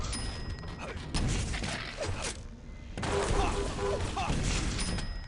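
Rocket launcher fire echoes through a Quake duel in a competitive 250FPS Quake Season 3 match, amid a dense, continuous wash of loud game noise.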